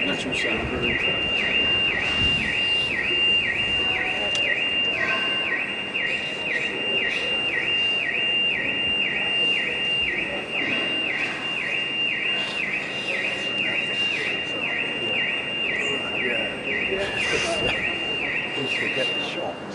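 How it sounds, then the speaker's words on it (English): A two-tone electronic alarm repeats steadily and loudly throughout, sounding outside a court hearing about Prince Harry's UK police protection, over constant crowd noise and people talking. "It's the Harry alarm"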